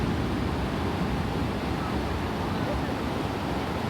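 Ocean surf at Santa Monica beach roars as a steady, broad wash of crashing waves, loud and unbroken, with wind buffeting the microphone throughout.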